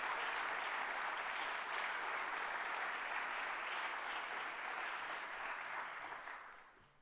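A crowd at a city's State of the City address applauds in a dense, even wash of clapping that holds steady before tapering off in the final second.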